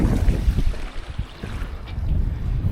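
Sailboat Spellbound cruising in calm water in Norfolk Bay, Tasmania, with wind buffeting the microphone and low rumbling water and hull noise running steadily throughout, no voices.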